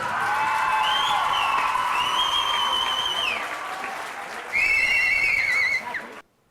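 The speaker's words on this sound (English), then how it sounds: "big round of applause." Applause rises from an audience at a 2008 school event at École Beau-Port, a loud sustained clapping crowd mixed with whistles and cheers that swells again before stopping suddenly.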